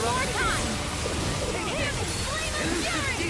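An Arctic Waterfall water spell from the video game Tales of Arise, a loud, continuous gushing splash of rushing water with sloshing bursts throughout the short burst.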